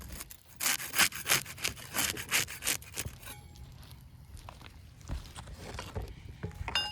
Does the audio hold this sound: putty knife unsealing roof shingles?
yes